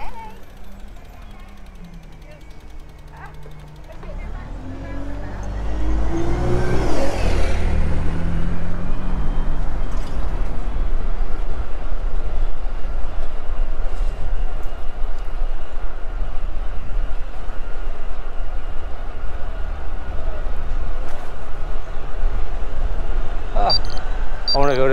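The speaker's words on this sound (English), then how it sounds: "Buses are coming through." A bus passes close on a road with a rising then falling roar, leaving a steady loud rumble of traffic and wind, heard from a bicycle.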